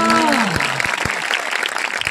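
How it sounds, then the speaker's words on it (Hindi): A church congregation at an Odia sermon claps together in a dense, sustained round of applause, loud and close, with a brief sliding tone at the start. "जोरगडी ताली मारियो हालेलुया।"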